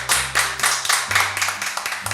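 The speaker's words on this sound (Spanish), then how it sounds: "todos con mucho orgullo le vamos a dar un fuerte aplauso" Clapping for a guest on a talk show, a handful of distinct, close claps in an uneven rhythm with a low hum underneath rather than a full crowd ovation.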